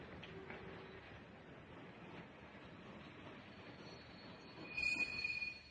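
A train arriving rumbles along steadily and faintly, with a brief high wheel squeal rising near the end.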